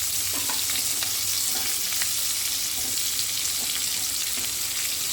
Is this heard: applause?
no